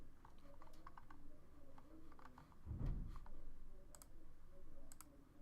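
Faint, soft mouse clicks while drawing a polygon in GIS mapping software, a scattered series of light taps with a closer pair near the end over quiet room hum, no talk.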